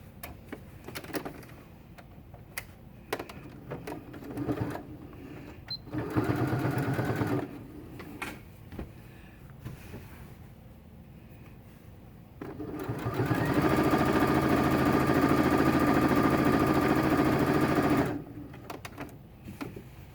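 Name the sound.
sewing machine sewing kitten quilt binding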